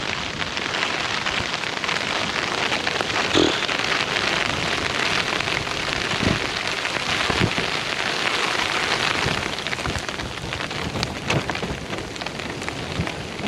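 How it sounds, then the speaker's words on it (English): Sleet falls steadily on a tarp at a windy camp, making a dense, loud, continuous patter and hiss with occasional louder taps, alone without voices. "It's actually sleet, isn't it?"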